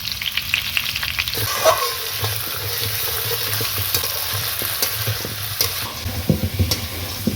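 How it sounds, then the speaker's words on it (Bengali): Chopped hog plums with ginger-garlic paste sauté in a pan: a loud, steady sizzle with frequent scraping stirs and clinks of the spatula, close and continuous. "এবারে কেটে রাখা আমড়াগুলো দিয়ে ভালো করে আমি কষে নেব"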